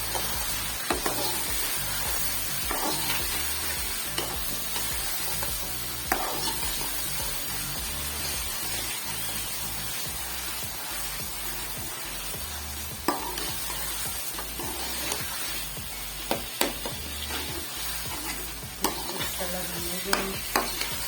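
Chicken masala with cumin, black pepper, cinnamon and cloves sizzles steadily in a pan, broken by repeated scraping stirs of a spoon throughout.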